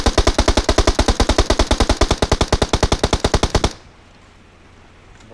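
Loud, rapid automatic gunfire from PUBG Mobile, a sustained burst of evenly spaced shots that cuts off abruptly into near silence.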